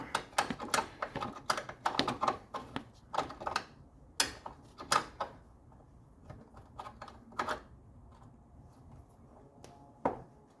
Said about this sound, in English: Get this wrench to slip on here. Go ahead and get this all tightened up.